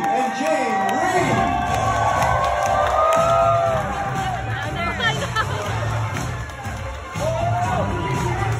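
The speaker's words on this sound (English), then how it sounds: "And raise the roof with your applause for the two happiest people in the world right now." Wedding guests cheering and whooping for the newly married couple, a lively crowd roar with shouts and excited chatter, loud and close, while voices talk and call out over the din.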